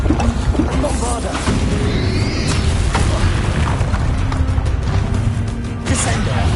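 Bombarda explosion spell cast in Hogwarts Legacy on PlayStation 5, heard as heavy, booming blasts within a dense, continuous wash of game noise that stays loud throughout.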